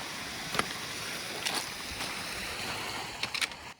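Steady, faint rush of a flowing mountain creek with deep pools, a constant broadband wash broken by a few brief splashes and taps.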